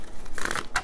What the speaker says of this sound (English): I am shuffling a fourth deck,